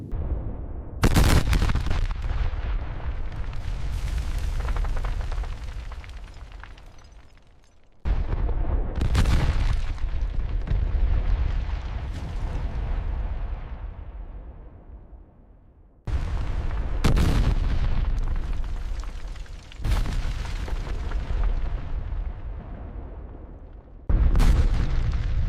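Massive explosions in a blast area boom in a series of about six heavy, loud blasts, each sharp onset rolling into a long rumbling decay before the next hits.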